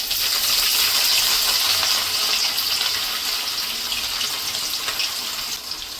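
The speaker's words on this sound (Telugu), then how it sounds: "ఇప్పుడైతే ఈ ఆనియన్స్ కొంచెం గోల్డెన్ బ్రౌన్ కలర్ వచ్చే వరకు ఫ్రై చేసుకుందాం" Two medium onions, thinly sliced, fry in a pan after fenugreek seeds for a tamarind fish curry, giving a steady close hiss and crackle that holds even throughout and fades slightly near the end.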